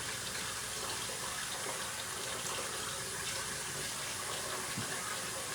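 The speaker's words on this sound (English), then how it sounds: "Mama's got water running." Tap water runs in a kitchen, a steady, even gushing hiss that continues unbroken at a moderate, slightly distant level.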